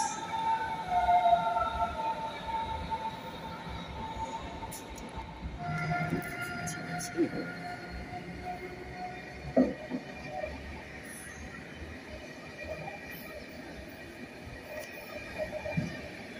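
Evening ambience at Berlin Hauptbahnhof with S-Bahn trains on the platforms, a steady rail rumble and hum carrying on throughout, a few brief squeaks and clanks, and faint distant voices in the background.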